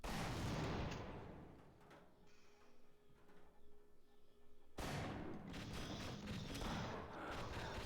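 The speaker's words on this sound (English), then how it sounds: "and then you're gonna blow up the mines" Mines blow up in Half-Life: Source, a heavy blast at the start that rumbles and decays, then a second loud explosion near the middle followed by sustained crackling roar, close and powerful.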